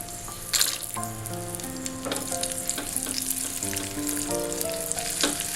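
Cashews and raisins fry in hot ghee for an ash gourd payasam, giving a steady close sizzle and crackle with occasional stirring clinks, with no talking.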